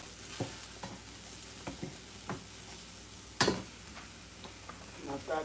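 Omelette filling, more filling than egg, frying in a pan: a soft, steady sizzle with scattered light taps and one louder scrape or clatter.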